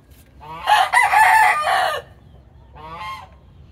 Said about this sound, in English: They're real smart chickens.